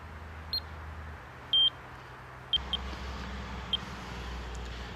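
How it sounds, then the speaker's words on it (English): A GPS ABC timing device gives short electronic beeps: a few brief tones, one longer bleep near the middle, then several more short ones, spaced irregularly over a steady low background hum outdoors at night. "Now, when I'm observing, I will turn on the beeper, which is like this."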